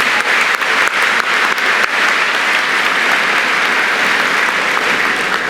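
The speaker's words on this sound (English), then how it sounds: "I'd like to give those three ladies a round of applause" A graduation ceremony audience gives sustained applause for three ladies, a dense, even wash of many hands clapping at once, with a few louder claps near the start.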